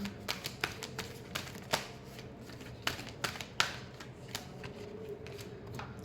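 Tarot cards being shuffled by hand in a quiet room, a run of soft riffling flutters and sharp snapping taps at an irregular pace, close and fairly quiet with no talking.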